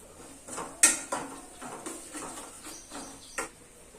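Ivy gourd masala gets mixed in a pan with a spoon, giving a run of close metallic clinks and scrapes at an uneven rhythm, one sharp knock standing out, with no talking.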